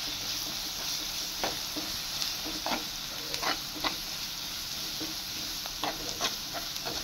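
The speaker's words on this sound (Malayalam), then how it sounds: "നമുക്കിതൊന്ന് ജസ്റ്റ് ഒന്ന് മിക്സ് ചെയ്ത് കൊടുക്കാം കേട്ടോ." Macaroni with chicken masala sizzles in a pan as a spoon stirs it, giving a constant frying hiss with scattered soft scraping and clinking strokes, close and moderately quiet.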